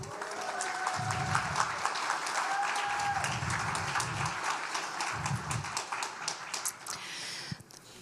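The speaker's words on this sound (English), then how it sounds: "if you will go ahead and applause" Graduation audience at an adult basic education ceremony claps for graduate Jessica Anderson, a steady crowd of hand claps with bursts of low rumble and a brief whistle-like tone underneath.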